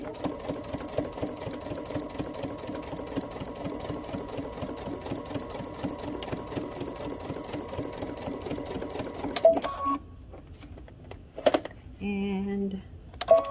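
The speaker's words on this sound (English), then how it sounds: "I'm going to back stitch right there" A home sewing machine runs steadily through fabric for about nine seconds, a close, continuous whirring stitch, then stops abruptly; a brief backstitch burst follows after a pause.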